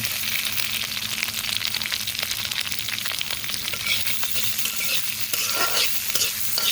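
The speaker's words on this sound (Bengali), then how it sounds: "এখন এই পেঁয়াজ কুচিটাকে ভেজে নিব বাদামি রং করে" Chopped onions fry in hot oil in a wok with whole cumin and bay leaves for a chicken and potato curry, giving a loud, steady, close sizzle with occasional stirring scrapes throughout.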